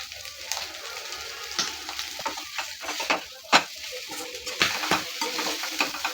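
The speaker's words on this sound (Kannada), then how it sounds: "ನಾವು ಶೋಧಿಸ್ಕೊಂಡಿರೋಂಥ ಬೋಟಿ ಹಾಕ್ಬಿಟ್ಟು ಚೆನ್ನಾಗಿ ಫ್ರೈ ಮಾಡ್ಕೋಬೇಕು" Cleaned goat tripe (boti) fries in a pan and is stirred, giving a soft continuous sizzle broken by scattered scraping and clinking strikes of the spoon against the pan, with no talking.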